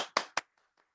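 Two sharp, close hand claps sound in quick succession, followed by a few faint taps in otherwise quiet surroundings.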